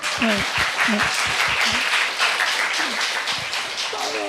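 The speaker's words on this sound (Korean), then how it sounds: "우리 박수 한번 쳐주세요" A room of churchgoers bursts into steady, dense applause that carries on throughout, with a few voices calling out over the clapping.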